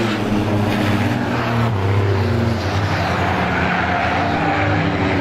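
Loud race cars battle through the corners of a heat race at Star Speedway, several engines roaring together with overlapping droning tones and tire noise, heard up close and continuous.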